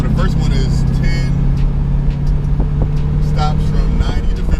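A Corvette C5 Z06 drives during EBC brake bedding stops at the Hockenheimring, its engine a steady droning hum inside the cabin while people talk over it throughout.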